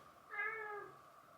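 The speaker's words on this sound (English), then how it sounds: "Sorry, that's my cat." A domestic cat gives a single drawn-out meow, fairly faint and indoors, heard alone without talk.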